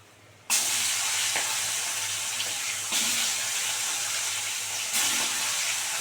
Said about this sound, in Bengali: আবার যেগুলো আছে সব কটা ওরমভাবে ভেজে নেবো লাল লাল করে